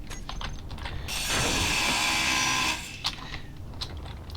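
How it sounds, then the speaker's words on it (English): A grinder tool grinding down a block in the Space Engineers video game, a mechanical whirring grind that swells loud for about a second and a half, then stops, followed by faint clicks. "And then we'll need to go down here and grind down a second one."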